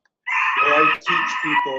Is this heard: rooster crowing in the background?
yes